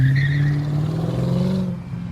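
A passing car is heard as a loud, close engine hum. Its pitch falls steadily as the vehicle goes by, with a brief high whine at the start, and then it fades out.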